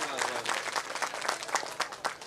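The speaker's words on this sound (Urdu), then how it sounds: "زوردار تالیاں ہونی چاہیے." Applause at a mushaira poetry gathering, an audience clapping in dense uneven bursts, with voices calling out over the clapping.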